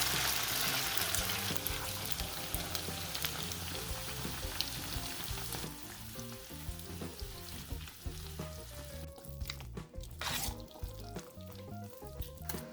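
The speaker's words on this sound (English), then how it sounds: "I'm adding the caramel sugar and quickly I'm mixing it" Hot caramelized sugar stirred quickly into cooked noodles in a pot for Yerushalmi kugel, giving a steady close sizzle and scraping stir that eases off partway through, with no talking.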